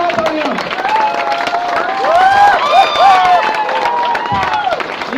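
An audience at a Hindi-language motivational seminar claps and cheers for their mentor. The clapping mixes with loud whoops and shouts, rising and falling around bright tonal calls, and stays busy throughout.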